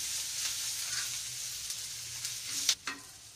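Peanuts stirred into lemon rice (pulihora) frying in a pan produce a soft, steady sizzle, then two sharp scraping strokes near the end, heard close and fairly quiet.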